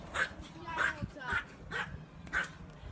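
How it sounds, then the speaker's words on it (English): A Yorkie barks outside in a steady run of five sharp yips spaced about half a second apart, somewhat distant and moderately faint, with a voice talking underneath. "That's our Yorkie."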